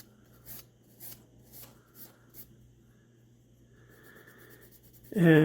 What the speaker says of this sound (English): I love the Scotch-Brite and how quickly it just eats that rust,